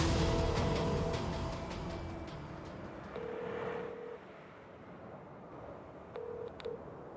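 Telephone ringback tone heard while placing a call: a steady mid-pitched tone sounds in two short bursts, partly buried under a loud, noisy background, with no talking.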